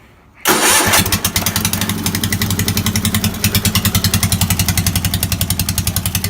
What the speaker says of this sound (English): It's only running on the front one.